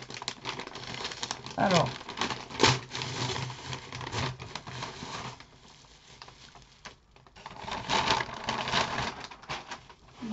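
Unwrapping a cardboard parcel packed in bubble wrap, with bursts of crinkling and rustling plastic and handling noises between quieter stretches, as a voice speaks briefly.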